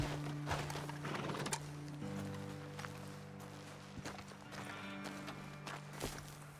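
Horses in Red Dead Redemption 2 clip-clop to a halt at a roadside ledge, hoof thuds and a brief whinny over a steady game music drone, with no talk.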